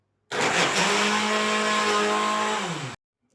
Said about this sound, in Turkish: Şimdi biz bunları bir blenderdan çekelim Aysima ile birlikte.